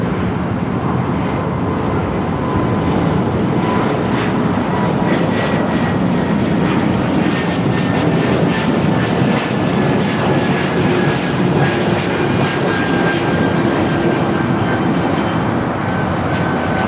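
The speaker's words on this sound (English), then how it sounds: "A380 Super continues its taxi down at Lima." An Airbus A380 taxiing at LAX airport gives a steady, loud jet engine roar that holds evenly throughout with no breaks, with no voices over it.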